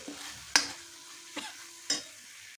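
Spice paste for a raw jackfruit rezala sizzles in oil as a spatula stirs it, with three sharp scraping strokes against the pan over a steady low frying hiss.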